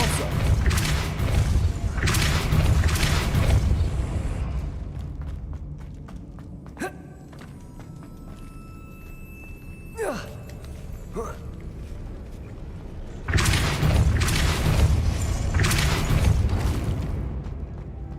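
Depulso spell cast in the video game Hogwarts Legacy, a sharp thumping burst that stands out from a busy game soundscape with loud, dense rumbling before and after.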